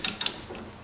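A 1 1/4 inch socket on a ratchet wrench loosens a nut on a 1944 Delta wood lathe, giving a few sharp, close metallic ratchet clicks in quick bursts followed by quieter handling noise.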